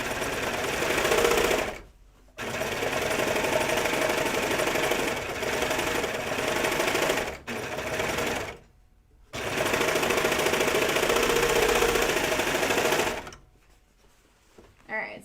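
A sewing machine runs in long steady bursts while stitching a seam on jeans, pausing briefly a few times between runs, loud and close, with a voice speaking faintly at points.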